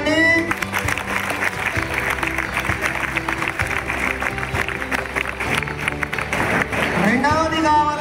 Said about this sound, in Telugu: ఇది మాకు అర్థమైందన్న వాళ్ళు క్లాప్స్ కొట్టండి